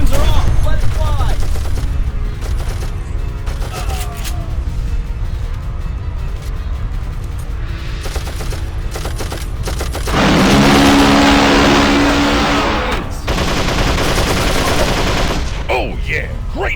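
Video game gunfire from Darkest of Days comes in loud, repeated bursts and volleys over a busy mix, with a sustained rattling stretch near the end.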